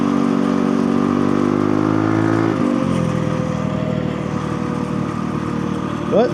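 A street mini bike fitted with a 60-tooth sprocket runs with a steady buzzing engine drone that drops in pitch partway through, then keeps idling or cruising loudly and close, with no speech over it.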